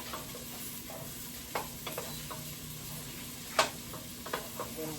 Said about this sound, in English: So we'll go ahead and get this sauteed.